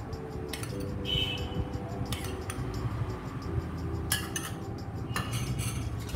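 A spoon scrapes and clinks against a pan while gond laddu mixture is stirred with added ghee, steady soft scraping with a few sharper metallic taps, close and alone.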